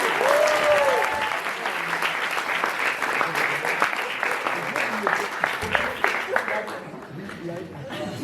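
Audience applause at a short-form improv comedy show fills the room, a dense, steady wash of many hands clapping that holds loud throughout, with a brief voice near the start and some cheering mixed in.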